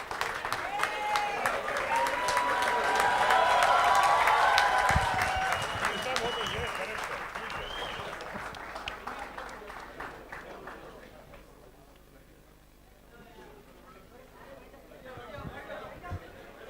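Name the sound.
audience standing ovation applause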